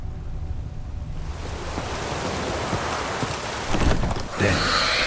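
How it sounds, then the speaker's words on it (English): Steady rain in The Witcher 3: Wild Hunt hisses and grows heavier, a broad wash of falling water with a louder surge near the end and no talking. "Looks like rain."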